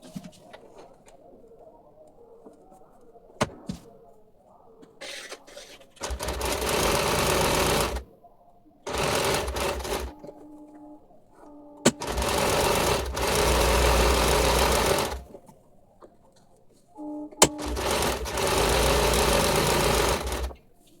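A sewing machine stitches fabric for a salwar pocket in three loud, steady whirring bursts, each lasting a few seconds, separated by quiet pauses with faint clicks and handling.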